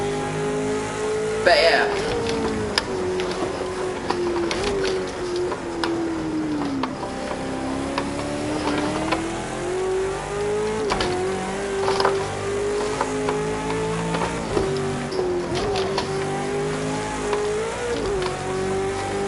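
A race car in Project CARS 2 runs a steady warm-up lap, its engine droning continuously with rising and falling revs as it shifts, loud and close throughout, with a voice talking briefly over it.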